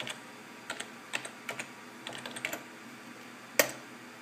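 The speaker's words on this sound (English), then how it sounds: "I'm gonna type in the password." A password being typed on a computer keyboard, with a quick, uneven run of soft key taps, close but quiet, ending in one sharper, louder keystroke.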